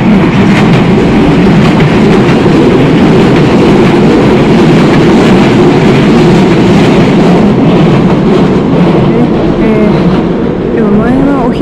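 Keio Inokashira Line train passing close by, a steady loud rumble with rail clatter filling the whole stretch, continuous from start to finish.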